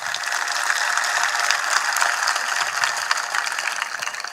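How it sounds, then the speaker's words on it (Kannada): Audience at a swamiji's public speech clapping together, a dense, even wash of applause filling the whole few seconds at a steady level with no voices on top. "ಒಂದು ಚಪ್ಪಾಳೆ ತಟ್ರಿ ಅವ್ರಿಗೆ"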